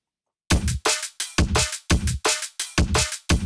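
A distorted kick drum repeats in a steady rhythm, about nine punchy hits, with the deepest bass thinned out and a gritty, filtered top remaining.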